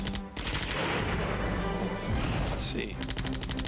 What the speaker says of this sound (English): Shoot the zombie right at the head.